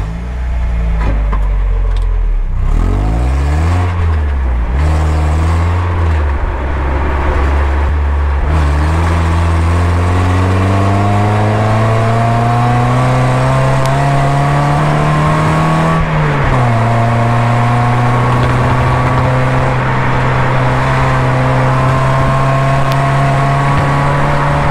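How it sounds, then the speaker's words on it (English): Steady engine drone and road rumble from inside a moving car, with rising and falling engine harmonics as it accelerates and shifts, continuous and close throughout, no voices. "There's quite a bit of road noise,"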